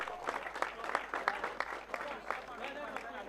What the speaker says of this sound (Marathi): SKC धुमकवाडी क्रमांक 2चा मानकरी एकदा जोरदार टाळ्या